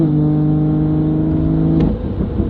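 A BMW M340i engine with a downpipe tune holds a steady, loud drone, then eases off near the end, with exhaust burble as the revs drop.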